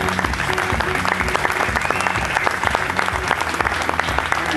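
Festival audience at the Gentse Feesten closing finale applauding a lighting technician, dense continuous clapping with sharp individual claps standing out, joined by low, steady rhythmic music underneath.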